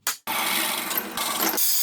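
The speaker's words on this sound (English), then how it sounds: "we're going to drill some holes in here" A short burst of drilling holes for a security camera tower: a brief whir, then a steady buzzing grind through material lasting over a second, close and fairly loud.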